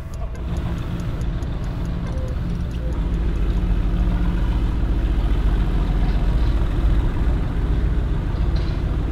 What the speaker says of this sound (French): Le moteur est fabuleux. 4 litres V8 bourré de coupe, puissant, avec un bruit invraisemblable.